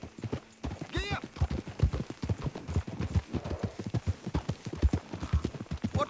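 Horse hooves gallop in a video game, a quick, steady clip-clop rhythm of close hoofbeats running throughout, with a brief whinny-like tone early on.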